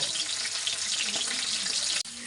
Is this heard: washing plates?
yes